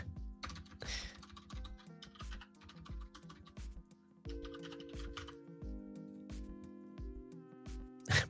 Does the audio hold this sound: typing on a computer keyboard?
yes